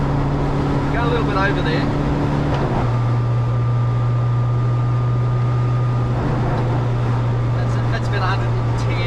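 Steady low engine drone from a Nissan Sunny truck (Datsun 1200) with an A15 engine at cruising speed, about 100, loud and constant throughout, with a person speaking briefly over it.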